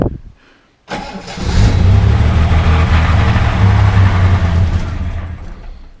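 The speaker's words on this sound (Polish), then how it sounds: "widzicie w ogóle jak fajnie auto startuje" A Jaguar XJ6 Series 2 engine cranks and catches after a short silence, then settles into a loud, steady run with a rising rev before easing off near the end, heard alone and close.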